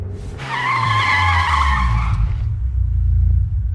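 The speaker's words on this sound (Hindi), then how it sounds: "तुमने ये गाड़ी क्यों रोक दी?" A car skids to a stop with a loud, sustained tire squeal lasting nearly two seconds, backed by a deep engine rumble that continues after the screech fades; no voices.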